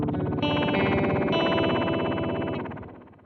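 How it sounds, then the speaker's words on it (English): A MoogerFooger Spring Tank reverb plugin gives a dense, buzzing, distorted metallic wash with a chorus-like shimmer. It stays loud and sustained for about two and a half seconds, then fades out, with no voices. "Let's see if Spring Tank sounds like a spring tank."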